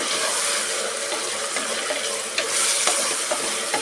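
Vegetable pulao for a temple-style festival dish gets stirred in a hot pan, giving a steady close sizzle and hiss with soft scraping strokes throughout and no speech.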